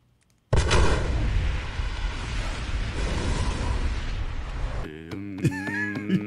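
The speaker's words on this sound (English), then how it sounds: "The explosion was delayed." A movie explosion bursts in suddenly after a moment of near silence, a loud sustained roar and rumble of blast and debris lasting several seconds before fading into other sounds.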